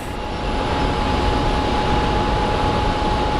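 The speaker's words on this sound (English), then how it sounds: "next up is the JetBlue that is headed to Boston" A JetBlue jet airliner bound for Boston at Phoenix Sky Harbor airport gives a loud, steady, roaring whine of jet engines, heard close and continuous.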